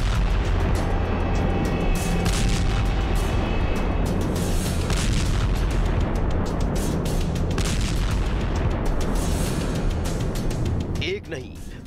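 Drone attack on Russian positions in Sevastopol, Crimea, with repeated heavy booms and blasts over a loud continuous rumble, a dense barrage running through the whole stretch and fading at the end.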